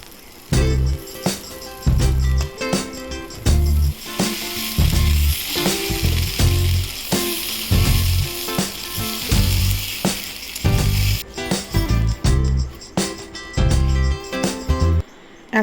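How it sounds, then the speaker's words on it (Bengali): Cumin seeds hit hot oil in a home kitchen pan where peas and turmeric are already frying. A loud, steady sizzle runs throughout, broken by repeated rhythmic bursts of stirring and scraping, with no voices. "এবার দিয়ে দিচ্ছে জিরে"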